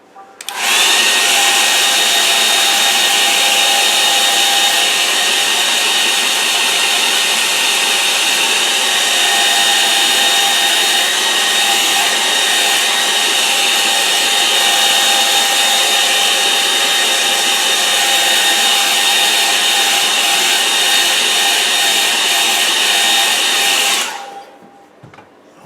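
A hair dryer blows steadily to dry an acrylic painting on watercolour paper, a loud, unbroken whirring roar that holds for about twenty-four seconds before switching off.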